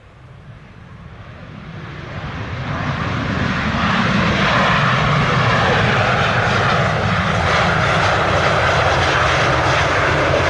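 A Southwest airliner landing on runway 25 at Montego Bay, Jamaica, its jet engine roar swelling over the first seconds into a loud, steady rushing drone that holds to the end.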